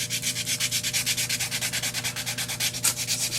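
Steady back-and-forth sanding strokes with 320 grit sandpaper on wood, a rapid even rhythm of rasping swipes, close and fairly loud, no talking.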